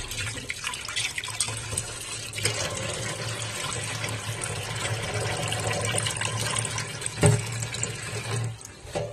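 Lentils (dal) being rinsed in water at a kitchen sink, a steady run of tap water with sloshing and splashing throughout, close and fairly loud, with a brief sharper splash near the end.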